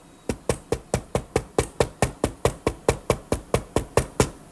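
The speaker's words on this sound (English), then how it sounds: "Big time knock there, to say the least." A loud, regular series of about twenty sharp knocks on wood, evenly spaced and close, each with a brief decay, with no talking.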